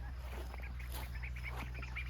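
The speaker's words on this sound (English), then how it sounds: "we do have an adult duck in here" An adult duck kept apart with an injured leg gives a series of soft, muffled quacks over a steady low background hum, fairly faint and somewhat distant.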